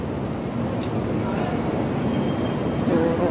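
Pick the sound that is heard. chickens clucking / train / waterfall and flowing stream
train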